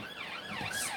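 An ambulance siren wails nearby, its rising and falling tone loud and steady as the vehicle passes on the road.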